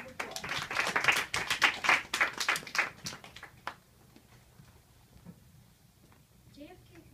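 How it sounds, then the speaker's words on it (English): A small audience claps for a student presentation on John F. Kennedy, a burst of sharp close hand claps lasting a few seconds before fading out, followed by quiet talking. "Round of applause."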